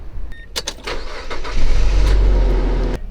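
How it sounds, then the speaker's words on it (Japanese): A camper van engine cranks briefly with a starter whir, then catches and settles into a steady low idling rumble close by. "エンジンつけてみます"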